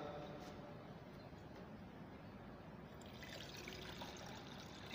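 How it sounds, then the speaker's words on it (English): Water pours steadily into salt solution in a lab experiment, a continuous broadband trickle close by, with faint talk in the background. "Then we'll pour 500 ml of water."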